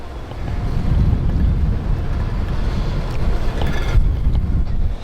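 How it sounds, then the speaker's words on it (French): Strong wind blows outdoors near the Olympic Stadium in Montréal, a steady, heavy rushing roar buffeting the microphone, while a drink can rolls along the ground, its faint clatter barely standing out. "Il y a une canette à terre qui a décidé de me suivre avec le vent, c'est juste pour vous en donner une idée, il est toujours présent"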